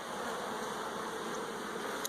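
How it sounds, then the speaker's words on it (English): Honey bees swarm over brood frames in an open hive of a young colony, giving a dense, steady, close drone of buzzing wings that holds constant throughout with no voices. "Look at all of these bees."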